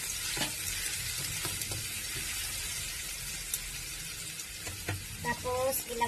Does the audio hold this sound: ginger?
yes